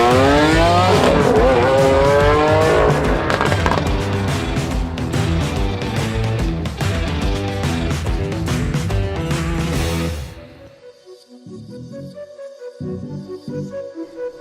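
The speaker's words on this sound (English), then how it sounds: "I'm delivering a stunning 2019 Lamborghini Aventador SVJ." A 2019 Lamborghini Aventador SVJ revs hard and accelerates, its loud engine note climbing through rising gear sweeps, then drops to a quieter idle with a few softer blips near the end.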